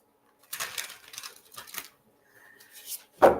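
Quick riffling bursts as a deck of psychic reading cards is shuffled indoors, several crisp shuffles in a row followed by a brief tap at the end, with no talk over them.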